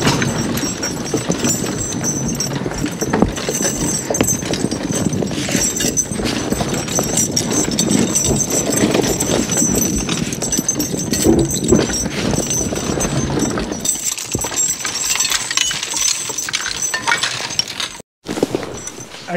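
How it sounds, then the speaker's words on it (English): Draft horses hauling logs through winter snow, with steady hoof clops and a continuous shuffling, crunching bed of noise close by, ending in a brief sudden drop. "He's gonna back the horses up."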